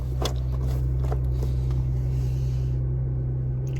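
A car engine idling nearby, a steady low rumble holding even throughout, with a few faint clicks and knocks over it.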